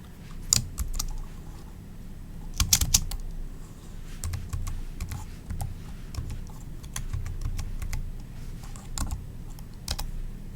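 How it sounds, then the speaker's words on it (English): Irregular clicking of keys on a computer keyboard, bursts of typing with short pauses, close by and without talk. "Oops, I was typing in the wrong place."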